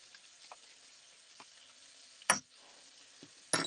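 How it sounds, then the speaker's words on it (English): Pad thai paste frying in a pan gives a faint, soft sizzle with a few light taps, and two sharper clacks stand out near the end. No voices are heard. "Fry for 1 minute"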